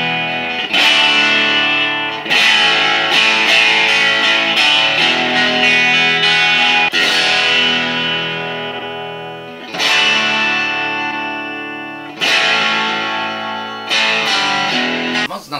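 Distorted electric guitar played through a wireless guitar system: loud, sustained crunchy chords ring out and decay, restruck in several phrases with brief gaps, alone and without any talk.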